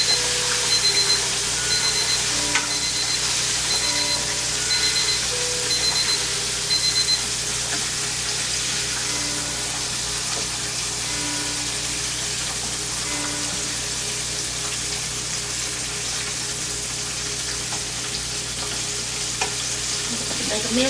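A pork chop fries steadily in a pan for the full length, a constant dense sizzle with faint tonal beeps early on, no talking.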